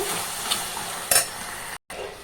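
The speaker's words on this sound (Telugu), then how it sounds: "పసుపు వన్ టేబుల్ స్పూన్ అల్లం వెల్లుల్లి పేస్ట్ ముందు ఇది బాగా కలుపుకోవాలండి" Turmeric and ginger-garlic paste stirred in a hot pan, a steady sizzle with scraping spoon strokes and a few sharper clinks, close and alone with no talking.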